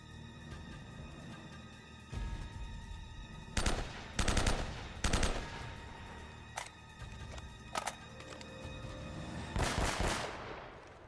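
Gunfire in the video game Uncharted: Drake's Fortune, loud bursts of rapid shots in separate volleys over a droning background score, with sharp single blasts between them.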